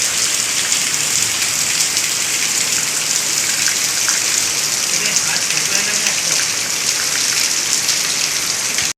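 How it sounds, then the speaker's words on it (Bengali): Heavy rain pours steadily outside, heard through a window, as a dense continuous hiss of drops beating on surfaces, loud and unbroken until it cuts off at the end. "দেখো গাইস, কতটা জোরে বৃষ্টি পড়ছে"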